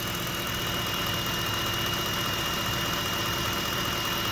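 A 2010 Ford F-150 engine idles steadily with a constant low rumble and a thin, faint whistle riding on top throughout; no talking.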